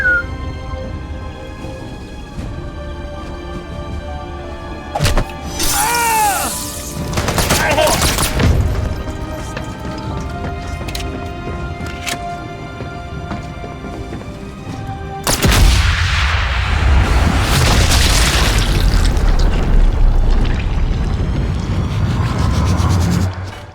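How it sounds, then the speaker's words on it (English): Flak cannon fire and explosions from the video game Sniper Elite Resistance: loud bursts and rapid booming volleys in two heavy stretches, with quieter game ambience between them. "Flak cannon."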